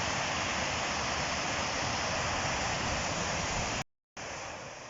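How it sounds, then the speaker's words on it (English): Fast-flowing water of the River Afton rushes over the dam in a steady, loud, broadband roar, continuous and close, with a brief dropout near the end before the rush resumes. "You listen to the flow of the water here, it just sounds dead fast"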